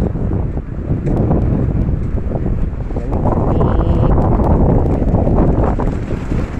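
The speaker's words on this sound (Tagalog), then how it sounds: "Ang lakas ng hangin." Strong wind roars steadily against the microphone, a loud continuous buffeting rumble with no break.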